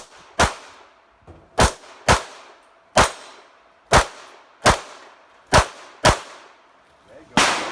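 Loud, sharp Glock pistol shots ring out at a shooting match, about nine cracks in an uneven sequence with short gaps between them and nothing else in the foreground.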